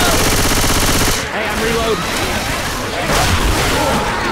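Loud rapid automatic gunfire rattles in a zombie video game, then breaks into scattered, echoing bursts and booms.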